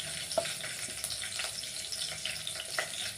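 Cumin seeds and green chilli sizzling in one spoonful of hot oil in a pan, a steady close crackle with small pops, heard alone without any talk.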